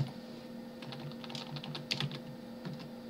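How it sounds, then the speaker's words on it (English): Soft, quick keystrokes on a computer keyboard as keywords are entered into a search tool, close and faint over a steady low hum, with no voices. "then you can separate them by comma and then just type in another one like SEO"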